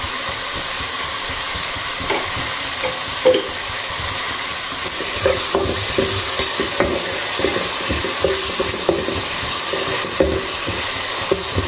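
Fenugreek dal mixture is stirred and fried in a pan, giving a constant loud sizzle with repeated spoon scrapes and clacks against the pan, close up and with no talking.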